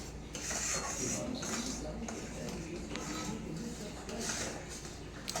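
Jaggery heated in a pan for laddu is stirred steadily, a metal spoon scraping and clinking against the pan in continuous rhythmic strokes at close range.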